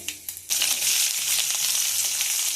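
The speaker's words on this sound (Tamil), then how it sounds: "எண்ணெய் சூடானதும் கடுகு, கடலைப்பருப்பு, கடுகு பொரிஞ்சதும் ஆனியன்" Mustard seeds and chana dal crackle and pop in hot oil, then onion goes in and a loud, steady sizzle takes over, close and continuous with no talking.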